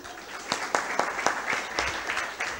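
A church congregation applauds two children, a dense round of many hands clapping indoors with a few sharper individual claps standing out, steady and moderately loud throughout.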